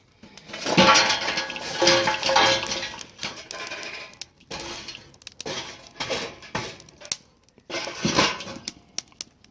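Hot charcoal pours from a chimney starter into a vintage lime Weber kettle grill fitted with a slow and sear insert, giving bursts of rattling, clinking coals in several loud waves with short pauses between.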